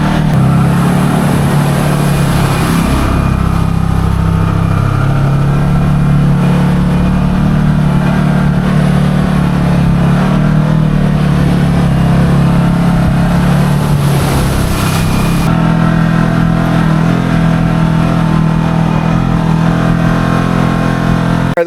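A Can-Am Maverick Sport XMR UTV on 35-inch Aztex tires runs loud and close throughout, its engine droning and revving in long sustained pulls with pitch shifts as the throttle rises and eases.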